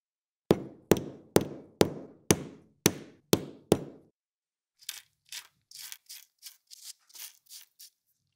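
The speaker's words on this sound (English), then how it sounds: "again, I carefully hit it with the hammer" Eight sharp, evenly spaced hammer taps knocking stuck glass off a plastic piece, ringing briefly, followed by a burst of lighter crunching and tinkling glass fragments, close and clear with no talking.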